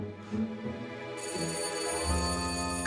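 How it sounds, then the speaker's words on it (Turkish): An electronic ringing tone sounds steadily from a doorbell at home, a sustained buzzy ring that swells in and holds for a couple of seconds with no talking. "Kapı çalıyor."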